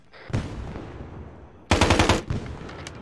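Automatic rifle fire in Arma 3, two loud rapid bursts, the second heavier and denser, close by, with a faint distant crack before them.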